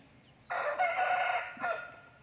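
A rooster crows loudly and close by, one long drawn-out call followed by a shorter tail, with quiet background before it.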